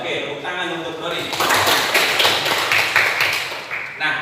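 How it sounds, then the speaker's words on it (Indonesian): A classroom of students claps together for a classmate, a dense burst of applause that swells after a brief pause and carries on steadily for several seconds, fairly close and loud. "Oke, tepuk tangan untuk Doni."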